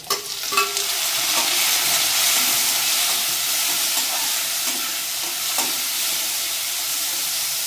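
Tomatoes and green chillies fry in a pan for a raw-mango fish curry, giving a steady, close, dense sizzle with occasional stirring scrapes throughout, no voices.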